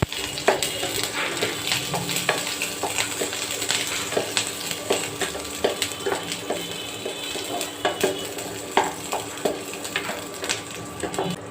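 Green chilies frying in a pan for a Bangladeshi potato vorta, heard as a steady sizzle with repeated sharp clicks and scrapes of a utensil against the pan, close and fairly loud, with no talking.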